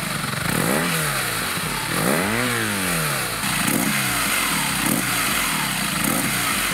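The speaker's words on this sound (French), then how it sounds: "on retrouve la sonorité et le célèbre couple de renversement de ce moteur" A BMW R nineT Pure motorcycle's boxer twin engine revs repeatedly, each blip of the throttle rising and falling in pitch over a rough, steady idle. It is close and clear, with no talking.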